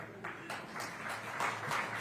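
Thin audience applause at an evening higher-education talk, a scattered wash of claps that builds slightly over two seconds, fairly faint and distant.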